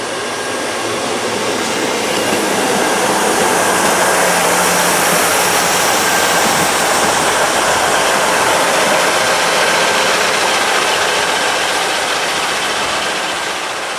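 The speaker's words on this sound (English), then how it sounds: "Arriving now is 2 Whiskey 62 going from Anniesland to Glasgow Queen Street. 158733 is running it yet again." Class 158 unit 158733 arriving on the Maryhill line service from Anniesland to Glasgow Queen Street, a loud continuous roar of engine and rolling wheels with clickety-clack, steady throughout and close by, no voices.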